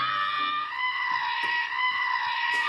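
A goat from the Plovdiv region bleats in one long, loud, sustained cry that wavers slightly, close by and with no talk over it.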